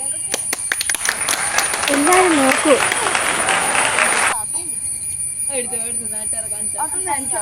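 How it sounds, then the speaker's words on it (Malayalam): An audience at a gathering claps, a dense burst of applause lasting about four seconds with voices heard over it, then stopping abruptly as people go on talking. "ഒന്ന് കൈയടിച്ചു"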